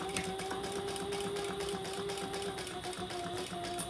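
A sewing machine stitches an eyeglass case with a zipper, moving slowly around curves. Its steady mechanical whir holds an even tone throughout with a rapid needle rhythm and no talk.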